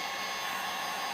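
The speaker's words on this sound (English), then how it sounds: "if you come up on any creases or anything, you just heat them up" A heat gun blows hot air onto carbon fiber vinyl wrap on BMW F30 interior trim, making a steady, loud, close whooshing roar that stays constant without a break.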